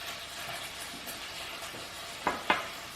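Chicken seasoned with salt and pepper is stirred in a hot frying pan, a steady low sizzle running throughout, with two sharp clinks of a utensil against the pan near the end.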